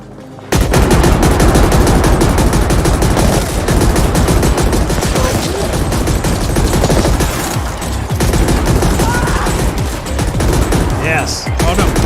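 Sustained heavy gunfire in the sci-fi shooter video game The Ascent, dense rapid bursts mixed with booming shotgun blasts, loud and nearly continuous for over ten seconds, with a voice briefly heard underneath.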